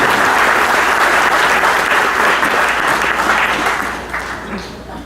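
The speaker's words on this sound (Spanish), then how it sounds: "Demos un aplauso al doctor César Bazán Naveda, que inicia exposición." Audience applause at a Peruvian national notaries' congress as a speaker is introduced, a dense even clapping that holds steady and then tapers off near the end.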